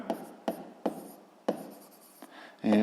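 Pen writing by hand on paper while noting a sum in a physics exercise, heard as a series of short, close scratchy strokes at an irregular rhythm, with a louder rubbing burst at the end and no talking.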